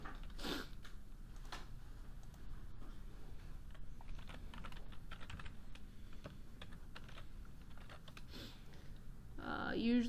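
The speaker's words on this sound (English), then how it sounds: "So we can just type all of that into our calculator." Fingers tapping buttons on a handheld calculator to enter a trigonometry problem, a series of quick, light plastic clicks in uneven bursts, close but quiet, with a faint voice around them.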